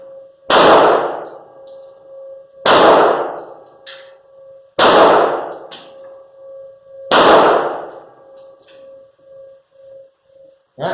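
Caspian 1911 pistol on a new build fires four loud shots about two seconds apart, each a sharp crack followed by a lingering metallic ring that fades before the next.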